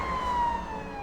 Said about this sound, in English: The white ambulance drives away from the street.